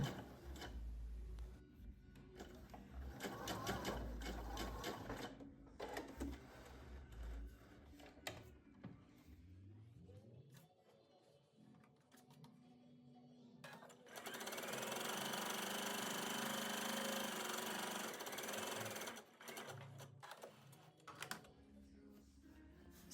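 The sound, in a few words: sewing machine stitching gathering rows on a puffed sleeve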